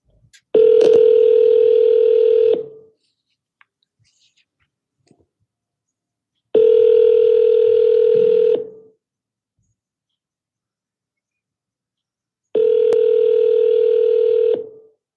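Telephone ringback during outgoing calls: three long, loud, steady tones, each about two seconds, separated by several seconds of near silence.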